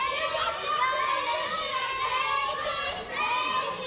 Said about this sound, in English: I'm gonna hear these children's screams in my dreams tonight